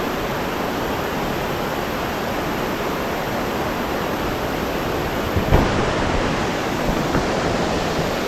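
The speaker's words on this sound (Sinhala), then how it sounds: "පාරක් කපාගෙන මේ ඇල්ලගාවට ආවා." Paradise Falls on the Baththalu Oya route to Sri Pada roars in a dense, steady wash of rushing water. The sound is loud and continuous, with no voices.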